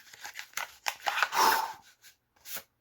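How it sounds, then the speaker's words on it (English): Scissors snip open a mail envelope in a few quick close cuts, followed by paper rustling and one last short crinkle. "So I cut open this envelope"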